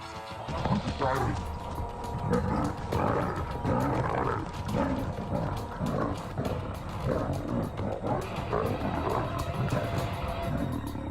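Lions snarling and roaring as they clash in a fight, a dense, continuous run of growls and harsh roars filling the whole stretch at close range with scuffling underneath.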